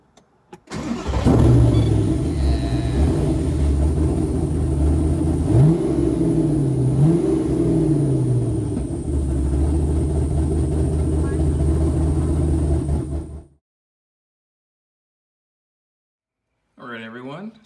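A Superlite SLC kit car engine fitted with a new fuel system starts, idles and revs for about twelve seconds, loud and close, then cuts off abruptly, followed by silence and a brief voice.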